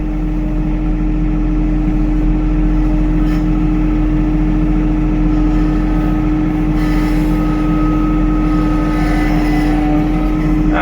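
A Yanmar diesel engine runs steadily at a constant idle-like drone with a strong low hum and harmonic tone, loud and unbroken, heard alone without talk.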